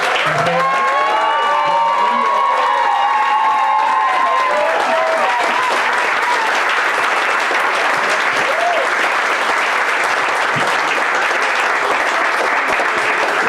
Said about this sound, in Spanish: quiero por favor que demos un fuerte aplauso para recibir al señor Jack Giraud